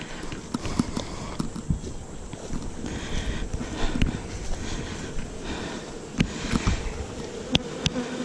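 Honeybees buzz steadily around an opened hive in swarming season, a dense close hum dotted with scattered knocks and clicks from handling the frames.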